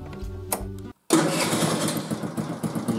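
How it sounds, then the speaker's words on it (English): A Benzhou four-stroke retro scooter engine turns over on its electric starter, then a brief pause, then it catches and runs at a loud, close, steady idle. "Let's see if we got power and the e-start works."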